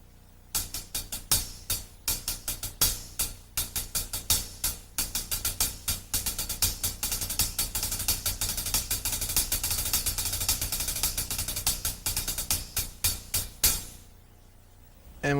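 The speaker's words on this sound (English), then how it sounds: "let me demonstrate a 5-stroke roll" Drum kit demonstration of five-stroke rolls: rapid clusters of snare strokes repeat in quick bursts, building into a dense continuous stream of crisp hits and cymbal wash before stopping abruptly.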